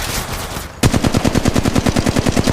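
Sustained automatic gunfire in Apex Legends Mobile on a Galaxy S21 5G, a loud rapid burst of evenly spaced shots kicking in after a brief quieter moment and hammering on without pause.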